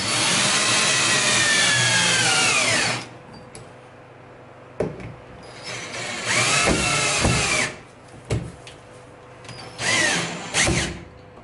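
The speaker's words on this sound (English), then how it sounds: "do a little pilot hole to get the screw in" A power drill bores a pilot hole for a hinge screw, first in one long steady whine, then in several shorter bursts with brief pauses between them, close and loud, with no talking.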